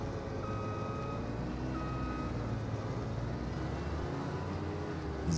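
Reversing beeps from a farm or road vehicle in Landwirtschafts-Simulator 25, a steady repeating tone over a constant engine drone, held at an even level with no talk.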